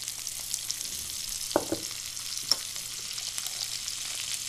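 Apple gourd (tinda) frying in a pan with turmeric gives a steady close sizzle, broken by a few sharp clinks of a spoon stirring against the pan.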